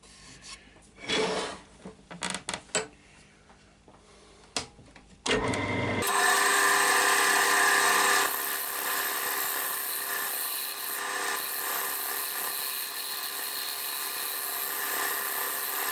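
Sandpaper rubs against a tulipwood bowl spinning on a wood lathe. After a few scattered scrapes and knocks, a steady, loud abrasive hiss starts and carries on without a break, up close.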